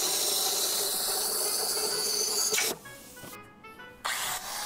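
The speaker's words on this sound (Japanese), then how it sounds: "本当にプラズマ便利です" A plasma cutter slices through steel square pipe from a home center, a loud steady hiss that cuts off abruptly, leaving a quieter workshop hum before another short burst of cutting.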